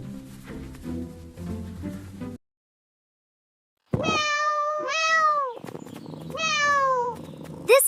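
A cat gives two drawn-out, rising and falling meows that are close and clear, following a short stretch of talking and a pause of silence.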